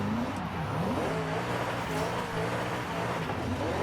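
A pricey, high-powered drift build car in Forza is heard from the cabin, its engine droning steadily with rising and falling revs, loud and close, with no talk.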